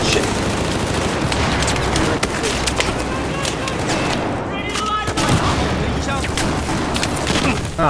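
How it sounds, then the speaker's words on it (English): Grenade explosions and dense gunfire in Battlefield 4, Siege of Shanghai map, a continuous loud barrage of rattling shots and booms with voices talking over it. "I think they threw like six grenades."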